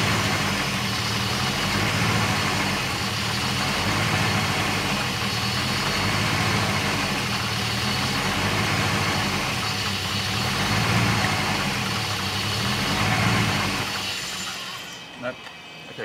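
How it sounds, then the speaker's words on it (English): A Porsche 928 V8 idles with a steady low rumble that swells and sags as it hunts for a stable speed, loud and close, then thins out and drops away near the end as the engine falters. "you can hear the engine sort of starting to hunt a little bit now"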